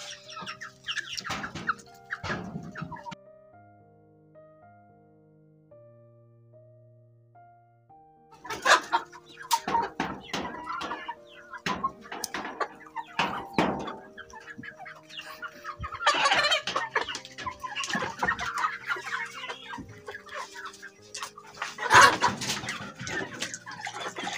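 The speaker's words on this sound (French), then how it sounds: "je vais quand même profiter pour vous présenter le poulailler, les poulets" Goliath hens cluck and squawk in irregular bursts in a henhouse, close by and fairly loud, with a quieter stretch of low murmuring clucks early on.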